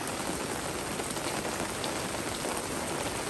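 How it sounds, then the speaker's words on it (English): Heavy rain pours steadily in the afternoon, a dense, constant wash of drops hitting surfaces close by, loud and unbroken with no voices over it. "Look how much it's raining."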